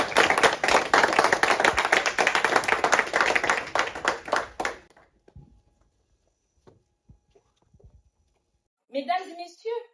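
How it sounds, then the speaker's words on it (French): Audience applause at a Congolese student event, dense and loud with many hands clapping for about five seconds, then stopping abruptly, leaving near silence with scattered faint taps before a voice starts speaking at the end. "Sous vos applaudissements"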